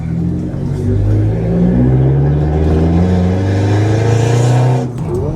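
A remapped pickup truck engine revs hard under acceleration, its loud, close drone climbing steadily in pitch before dropping sharply at a gear change near the end.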